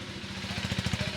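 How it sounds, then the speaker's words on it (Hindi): A 2025 KTM Adventure 390 motorcycle engine idling close by, a low, even pulsing thrum whose beat grows slightly firmer toward the end. "इसकी आइडल आवाज़ है।"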